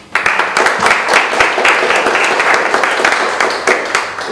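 An audience at a cooperation-agreement ceremony at the Musée de l'Éphèbe in Agde breaks into lively applause, dense, close clapping that holds steady for several seconds.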